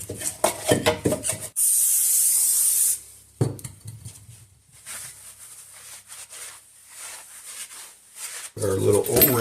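Brake cleaner hisses from an aerosol can in one steady, close burst of about a second and a half onto a Jeep Grand Cherokee brake rotor. Scattered clanks and handling noises come before and after it.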